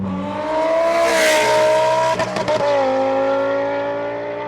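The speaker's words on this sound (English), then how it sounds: "Not bad for an odd firing V10" Lamborghini Huracan with a 5.2-litre odd-firing V10 and custom FMU-built exhaust revs hard, a loud rising then sustained engine scream lasting several seconds with a brief stutter midway, no talking.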